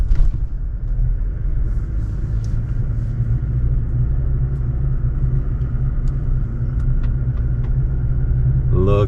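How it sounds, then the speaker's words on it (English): A truck rumbles steadily along an overgrown track. Its low engine drone runs throughout, with scattered scraping and brushing hits as branches strike the body, and faint talking can be heard inside the cab. "Lots of branches hitting the truck."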